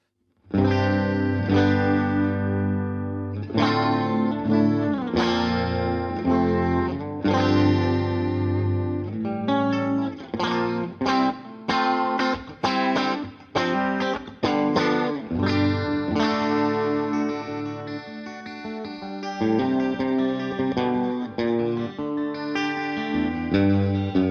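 A clean electric guitar through a modelled amp's clean channel strums and picks chords through a lush, shimmering chorus effect, played steadily and close with a warm amp tone.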